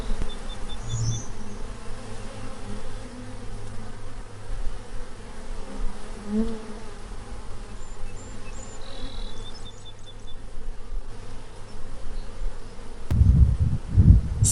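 Bees buzz in a steady, dense hum that fills the whole stretch, close and continuous, with a few low bumps near the end and no voices.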